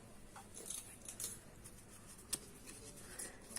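Scissors snipping through banner fabric, quiet and close, with a few small sharp cuts spread over a soft background hiss.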